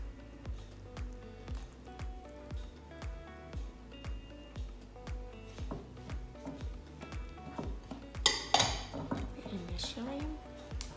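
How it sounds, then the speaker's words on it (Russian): Melted butter being stirred into flour for a Christmas pie: steady rhythmic scraping and clinking of a utensil against a bowl, about two strokes a second, ending in a brief louder rattle. "Перемешиваем."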